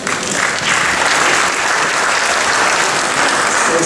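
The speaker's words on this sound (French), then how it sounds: "applaudissez-vous" A ceremony audience honouring graduates and a mayor bursts into loud, sustained applause, a thick continuous roar of many hands clapping close by, holding steady for the whole stretch with no voices on top.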